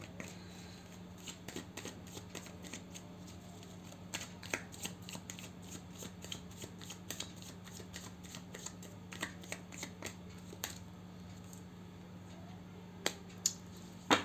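Tarot cards handled during a reading: a run of soft papery flicks and sharp card snaps, scattered and irregular, some louder taps as cards are set down, over a steady low electrical hum with no talking.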